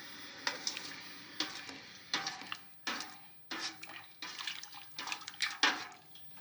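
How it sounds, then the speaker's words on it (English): Calcium oxide tipped into hot water in a container, with irregular soft splashing, fizzing and stirring sounds in short bursts, faint and close. "it did bubble away a little bit as I added it, but not too vigorously"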